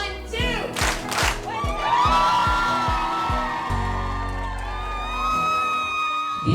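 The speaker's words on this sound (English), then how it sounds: "I need 2 huge claps." A school awards-ceremony audience at the Kinder Excellence in Teaching Awards claps in a quick rhythmic series of loud, sharp hits, then breaks into cheering, whoops and crowd noise.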